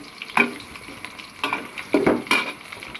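Something browning in a frying pan ahead of adding chicken, soft sizzling broken by several close spatula scrapes and stirring strokes against the pan, rising in bursts over a few seconds.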